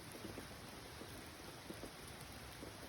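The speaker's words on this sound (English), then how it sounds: "Well, it's raining again." Steady rain falls during a stormy morning, a dense even hiss with scattered soft drops, fairly quiet and continuous with no voices.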